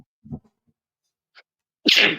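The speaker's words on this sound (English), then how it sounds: "I had to sneeze." A sudden loud sneeze bursts out near the end after a couple of faint breaths and small noises in an otherwise quiet moment.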